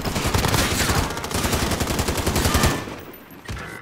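Rapid automatic gunfire in a first-person shooter game rattles loud and close in a fast, steady burst that cuts off near the end, leaving a few fainter trailing shots.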